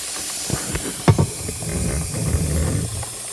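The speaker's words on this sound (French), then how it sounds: "on va graisser la chaîne" Aerosol lubricant sprayed from a can onto a motorcycle chain: a couple of short clicks and knocks, then a steady close hiss of spray lasting a few seconds.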